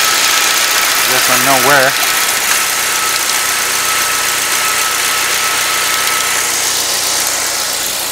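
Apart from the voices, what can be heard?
engine idling with random misfire, 2008 Saab 9-3 2.0T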